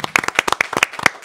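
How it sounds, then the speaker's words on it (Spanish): Close, loud hand clapping for the president of the Dominican Republic, a quick irregular burst of about a dozen sharp claps from a small number of people with no talk over it. "Un aplauso"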